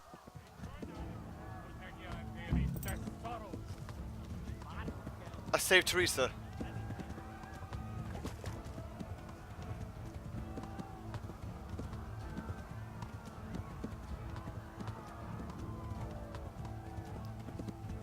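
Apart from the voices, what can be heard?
horse galloping, clip-clop hooves, Kingdom Come Deliverance video game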